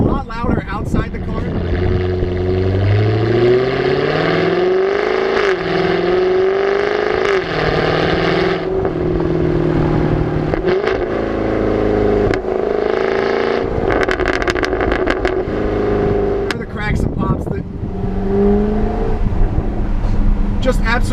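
A Jaguar F-Type R with its exhaust valve open revs loudly and repeatedly, its pitch rising and falling over a rumbling idle. Someone talks in between the revs.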